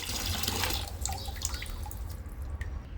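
Water runs from a Parkside electronic garden watering timer in a steady spraying rush with dripping and splashing, close and continuous, with no voices.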